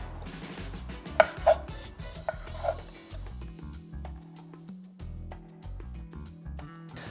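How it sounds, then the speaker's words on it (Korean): A knife cuts beets into bite-sized pieces on a cutting board, a few close, crisp chops early on, with background music playing throughout. "먹기 좋은 크기로 비트를 썰어 주시기만 하면 끝나요"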